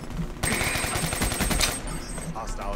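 An assault rifle fires rapid automatic bursts in Call of Duty Black Ops 3, a dense, loud crackle of shots that starts abruptly and runs steadily before tapering, with game effects layered in.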